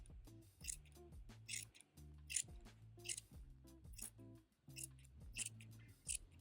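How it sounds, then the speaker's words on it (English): Scissors carve the long tufted pile of a rug seat cover in a steady rhythm of crisp snips, about one per second, close and quiet. "I'm doing it with my scissors because I don't want to get carried away."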